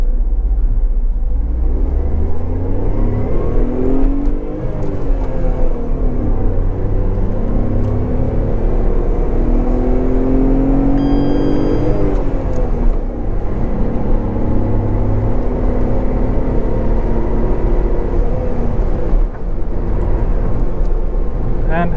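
A 2025 Tata Tiago XZ+ launches hard from a standstill in first gear with the handbrake released. Its engine note climbs loud and strained, then drops at each upshift and rises again, under a constant close cabin drone.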